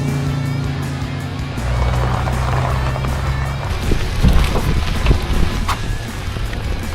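A vehicle carrying a DJI Dock 3 in its vehicle kit drives along, with a steady engine and road rumble throughout and a few louder bumps and knocks in the latter half.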